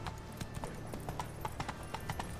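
Horse hooves clip-clopping at a steady trot in The Witcher 3 video game, a regular run of hoof strikes over a low game ambience, no talk.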